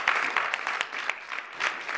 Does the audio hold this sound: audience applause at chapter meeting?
yes